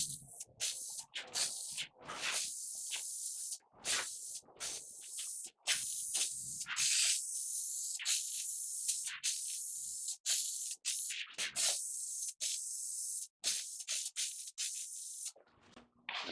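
Textured coating sprayed onto the underside of a homemade mandolin case, a close steady hiss broken into bursts of varying length with short gaps, loud and dry with no talk.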